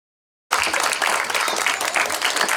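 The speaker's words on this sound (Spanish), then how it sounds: "dele un aplauso al Señor, no me aplauda a mí, aplauda a Dios" A church congregation at a mission service in Torocagua, Honduras bursts into sudden, loud applause after a brief silence, then keeps clapping densely and steadily to the end.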